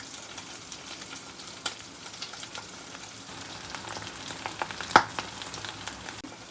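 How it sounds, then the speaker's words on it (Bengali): Sauce and egg mixture being stirred in a hot pan for pasta, giving a steady soft sizzle with faint scraping and one sharp clink of the utensil against the pan near the end. "সস ডিম ভালো করে মিশিয়ে নিচ্ছি"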